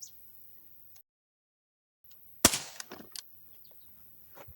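A single sharp crack from an Umarex Smith & Wesson M&P 40 .177 CO2 air pistol fired over a chronograph, close and brief, followed by a short rattling tail, with quiet surroundings before and after.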